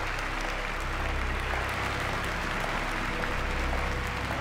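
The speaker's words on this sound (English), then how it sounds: "I wonder how long they'll keep clapping." Sustained crowd applause in the video game Virginia, a dense, even wash of clapping that holds steady and loud throughout without letting up.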